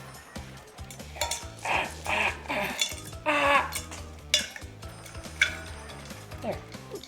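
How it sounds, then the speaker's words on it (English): Ice cubes clinking and rattling against a glass of tea, with irregular bright knocks over a busy background of game music and effects. "Okay, I got my ice cubes."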